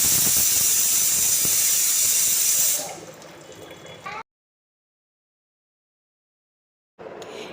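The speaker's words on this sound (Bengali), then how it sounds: "কড়াইটা একটু শক্ত আছে, তাই 2-3টে সিটি মারার জন্য প্রেশার কুকারে একদম কষে দিয়ে দিলাম।" A pressure cooker vents steam in a home kitchen, a loud continuous hiss that dies down after about three seconds, followed by silence and a brief return of the hiss at the end.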